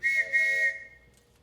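A single train whistle sounds as a brief, clear, steady tone lasting well under a second, then fades quickly into quiet.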